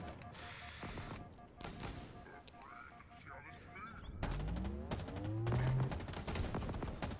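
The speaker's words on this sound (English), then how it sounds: "Plasma launcher!" Plasma launcher firing in the Halo Infinite campaign, a burst of rapid rattling gunfire with rising energy tones, loud and close over a busy battle soundscape, with a voice speaking during the clip.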